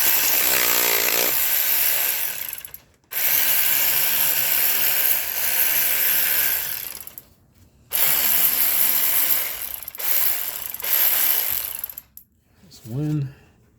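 A ratchet with a 10 mm socket backing a part off an Acura/Honda engine: close, loud bursts of rapid clicking ratcheting, separated by short silent gaps, ending with a brief squeak.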